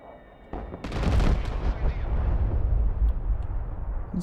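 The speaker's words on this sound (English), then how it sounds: "now we'll test our bombs. Fab 500 and 100" FAB-500 and FAB-100 bombs detonating in the Broken Arrow war game, a sudden heavy blast followed by rumbling, rolling explosions and debris that keep booming loudly for several seconds.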